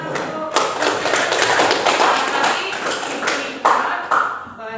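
A classroom group gives applause at the close of a student presentation: dense, sustained clapping from many hands, fairly loud and steady for several seconds before it tapers off.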